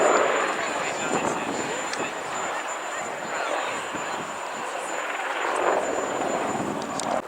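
A helicopter flies at an air show, its steady rotor and turbine roar carrying broad and fairly loud across the airfield, with a commentator's voice heard over it.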